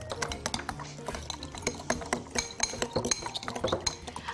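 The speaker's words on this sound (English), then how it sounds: "So mix up the vegetable oil." Vegetable oil being mixed into banana bread batter in a bowl, with quick rhythmic clicks and clinks of a spoon against the bowl, close up and without talk.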